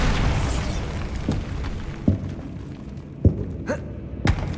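Bombarda explosion spell in the Hogwarts Legacy video game: a burst at the start followed by several sharp blasts and thuds spaced about a second apart, fading into quieter pops at the end.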